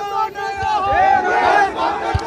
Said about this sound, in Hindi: हजारों की संख्या में लोग स्वागत के लिए उमड़े हैं